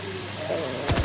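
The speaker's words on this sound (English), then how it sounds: "I'll take these dual pistols" Dual pistols firing in the Fortnite video game, a quick burst of about three sharp shots near the end after a stretch of quieter game noise.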